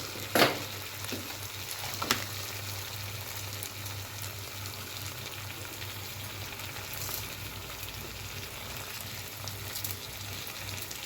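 Curry leaves dropped into hot oil in a pan for brinjal curry, sizzling and crackling steadily, with a couple of sharp pops near the start and a continuous frying hiss throughout, no talking.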